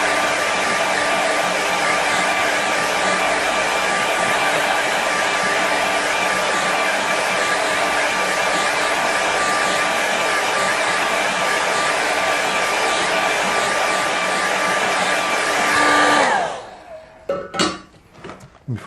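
A hair dryer blows steadily and loudly over a wet watercolour winter landscape painting for about sixteen seconds, then switches off, leaving a few faint clinks and taps.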